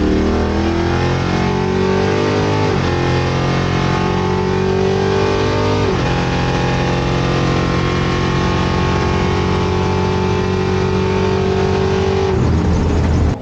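A drag race car makes a full bracket-racing pass down the strip, its engine roaring loud and continuous as it climbs through the revs, with distinct gear shifts breaking the rising tone.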